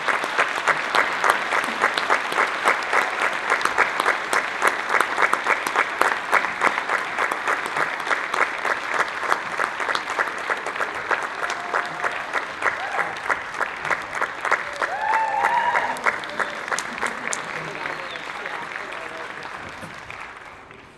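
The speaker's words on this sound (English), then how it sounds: "Please join me in giving a warm round of applause to our class of 2025 Hall of Fame" Sustained audience applause for a 2025 sports Hall of Fame class at a high school ceremony, a dense steady patter of many hands clapping for about twenty seconds that swells briefly near the end and then fades out.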